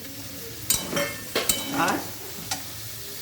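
Sliced ridge gourd tipped into potatoes already frying in a pan, then stirred: a few sharp sizzling bursts and scraping stirs, close and fairly loud, with a brief word spoken.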